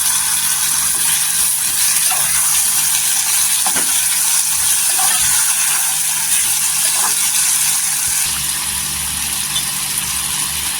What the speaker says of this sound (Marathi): इथे 1 हिरवी मिरची टाकायची, इथे कट केलेलं टोमॅटो टाकायचे आणि तेलावर छान असं परतून घ्यायचं।